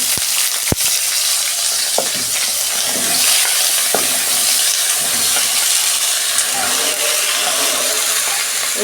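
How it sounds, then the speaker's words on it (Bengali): Pointed gourd and eggplant fry in a little oil in a wok, giving a continuous bright sizzle throughout with a few sharp clicks and taps of a utensil against the pan. "কড়াই তেল দিচ্ছি, আমি অল্প তেল দিয়ে ভেজে নেব সবজিগুলো।"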